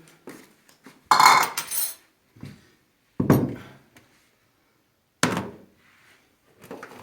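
Someone picks out a spoon, and metal cutlery clatters in a few separate sharp bursts of clinks and knocks, with quiet gaps between them.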